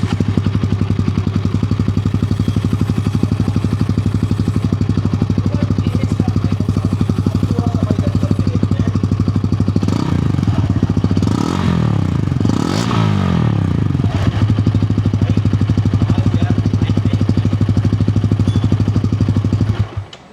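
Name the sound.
Bajaj Pulsar N160 4V motorcycle exhaust idling then revving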